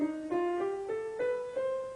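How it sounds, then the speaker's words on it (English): A minor scale rises step by step on a single melodic instrument, about six clear, evenly spaced notes climbing in pitch, played alone and fairly soft. "so that the minor scale sounds like this."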